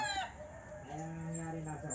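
A rooster crows in a drawn-out, harmonic call lasting over a second, with other clucking fowl faintly in the background.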